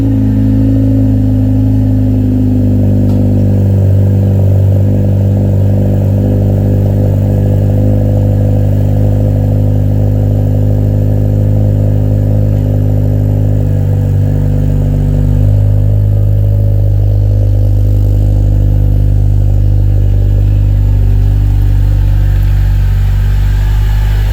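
A car engine runs steadily at idle and low revs as the car is backed out of a home garage, a continuous close rumble with slight changes in pitch and no talking.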